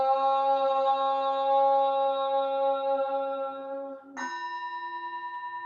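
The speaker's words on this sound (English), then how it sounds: "The sound of the temple bell booms for all to cease from conflict." A resonant bell rings with a long, shimmering sustain, then is struck a second time about four seconds in, its tone lingering and slowly fading.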